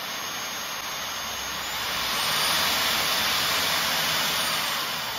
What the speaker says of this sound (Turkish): Turboya bastığımızda bir de turbonun sesini duyalım mı?